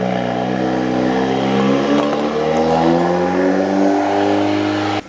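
A VW Mk8 GTI with its OPF/GPF deleted revs hard through the exhaust, a loud, close, sustained engine roar with rising and falling harmonic pitch as the throttle is held and worked, cutting off abruptly at the end.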